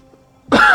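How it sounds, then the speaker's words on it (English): A single short, harsh cough right up close, after a near-silent pause. "Excuse the coughing."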